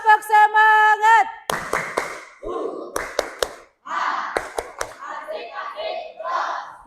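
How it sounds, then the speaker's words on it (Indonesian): A class of children in a school lesson joins a teacher's rhythmic clap chant, short patterned bursts of group clapping alternating with a sung adult call and children's voices chanting along. "Tepuk semangat."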